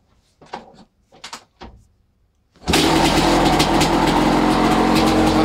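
A 1988 Suzuki RM250 two-stroke motorcycle cold-started with one kick: a few scuffing, clicking kickstart strokes, then the engine bursts into a loud, close, continuous ringing idle.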